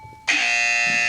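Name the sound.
buzzer sounded as quiz answer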